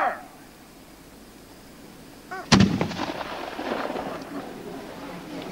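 A volley of historical reenactment muskets fires as one sharp, loud crack, then a long rumbling echo and crowd noise trail off. Voices are faintly present.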